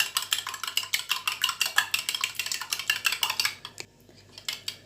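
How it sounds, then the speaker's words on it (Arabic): A fork whisking eggs with salt and black pepper in a bowl, a fast, steady run of close clinking strokes against the bowl that stops briefly and then resumes with a few lighter taps. "هخفق كده البيض"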